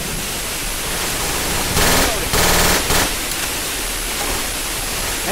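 Bursts of rapid automatic gunfire rattle out in the Left 4 Dead 2 zombie shooter, two dense volleys standing out above a constant loud hiss of game noise.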